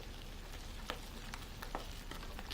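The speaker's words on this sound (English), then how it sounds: "get your hand in there and start stirring it around" A hand stirs sourdough starter, flour and water in a bowl, giving soft wet squelches and faint crackling clicks, quiet and close, with no talking.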